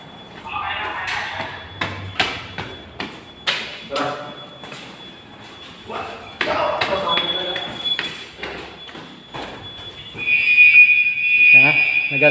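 An addressable fire alarm panel under test sets off an alarm tone indoors, a steady electronic tone heard through the clip and loudest near the end, under frequent clicks, knocks and people talking.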